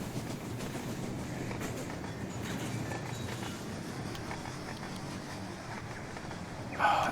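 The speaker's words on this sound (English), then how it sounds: "Watching trains." In the model railroad game Rolling Line, a train rolls steadily along the track with a soft, continuous rumble and rhythmic clicking of wheels over rail joints, faint overall, with a brief louder burst at the very end.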